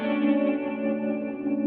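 An electric guitar played through Archetype Tim Henson effects with EQ, reverb, delay, chorus and tremolo rings out as a sustained, shimmering chord, steady and full, alone in a bedroom R&B production.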